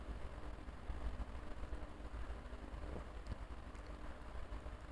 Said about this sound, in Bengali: ফোড়নটাকে আমি খুব ভালো করে ভেজে নিচ্ছি